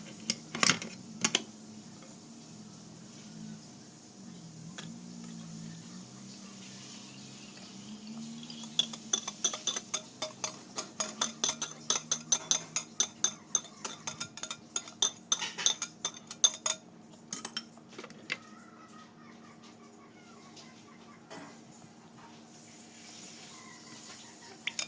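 Leche flan mixture stirred in a bowl, a long run of rapid, regular metallic clinks as a utensil strikes the rim and sides, tapering off and then pausing, with no voices.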